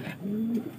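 Pigeons in a cage give a single soft, low coo up close, with faint background noise around it.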